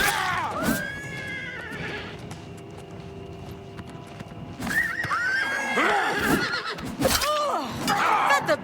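A horse in the video game Oblivion Remastered neighs repeatedly in loud, shrill whinnies, with hoof clip-clops and combat sounds in a game battle.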